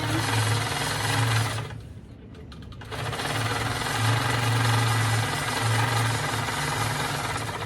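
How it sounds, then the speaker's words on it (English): A Handi Quilter longarm quilting machine double stitches over a seam on a tote bag, making a loud, steady mechanical whirring and rapid needle chatter that pauses for about a second before resuming at full speed. "Do some double stitching over that seam."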